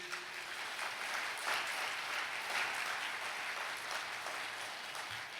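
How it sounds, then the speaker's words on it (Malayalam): A congregation claps hands together at a prayer talk, a soft, even wash of applause held steadily for several seconds at moderate distance. "ഒന്ന് കൈയുയർത്തി കൈയടിച്ചേ."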